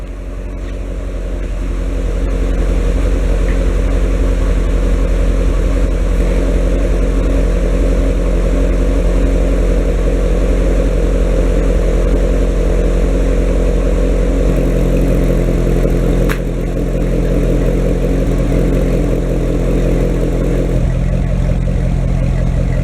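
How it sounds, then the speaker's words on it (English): A car engine with NPP active exhaust mufflers, their valves opened, rumbles loud and steady near the tailpipes with a deep idle drone and slight swells in revs. "Now I'm going to release the vacuum to the pipes and we'll hear the difference."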